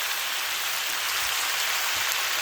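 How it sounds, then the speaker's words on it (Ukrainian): Pork taranchuk with onions sizzles steadily in a frying pan, a close, continuous hiss and crackle with no talking. "Таранчичок шкварчить."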